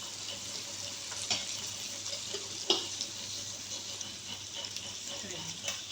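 Pasta with panko bread crumbs frying and being stirred in a pan, a soft continuous sizzle with occasional spoon clicks and scrapes against the pan, close and moderately quiet.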